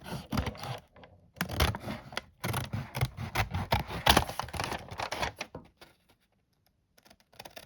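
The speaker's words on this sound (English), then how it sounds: "I can cut it off the edges where I have" Scissors trimming the overhanging paper off the edges of a junk journal made from an envelope, a close run of quick crisp snips and scrapes in bursts, then tapering to faint clicks near the end.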